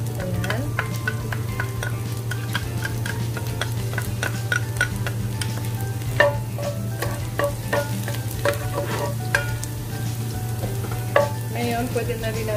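Garlic frying in hot oil for lumpia filling makes a steady crackling sizzle full of tiny pops, over a low constant hum from the stove, with occasional stirring clicks.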